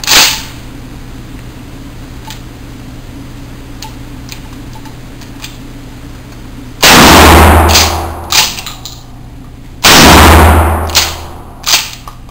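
Two loud, close shotgun blasts from a stockless shotgun firing dove loads, each followed by a short echoing decay, with faint clicks and mechanical handling sounds in between.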